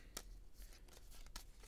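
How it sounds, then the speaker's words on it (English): Deck of threat cards from a tabletop board game being shuffled by hand, quiet riffling with a few sharp crisp bursts of cards snapping together, close and faint. "So shuffle the deck"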